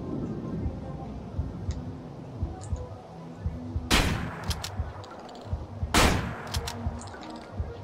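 Two sharp, loud gunshots in the Manhunt video game ring out a couple of seconds apart over a low ambient game hum, with faint scattered clicks between them.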